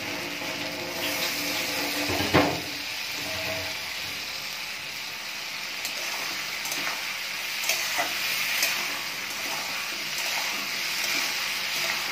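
Water goes into a hot pan of frying mango-katla fish curry, raising a steady close sizzle and bubbling hiss that persists throughout, with a brief splash and stir early on and no talking.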